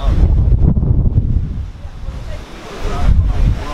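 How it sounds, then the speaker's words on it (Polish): Strong wind gusts buffet the microphone outdoors near the sea, with a dense low roar that swells and eases over a few seconds. "Ale wieje tutaj strasznie."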